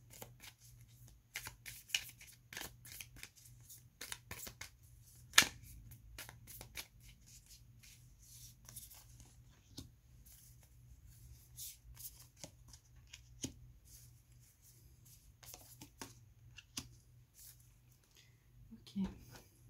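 Tarot cards shuffled and laid down in soft, irregular riffles and flicks, with a few sharper taps and slaps, close and quiet under a room hum.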